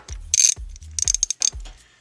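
A 1/4 inch drive ratchet with a 10 mm socket clicks in several quick bursts of loud, close ratcheting with short pauses between strokes, working bolts during a 2006 Scion xB transmission filter job.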